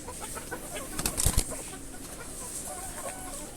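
Five hens settled in a coop cluck softly and intermittently at close range, with a brief louder flurry of clucks and a rustle midway.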